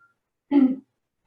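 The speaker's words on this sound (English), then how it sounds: "You may even want to clear your throat out or cough." A single short, throaty rasp, like someone clearing their throat, close and brief against silence.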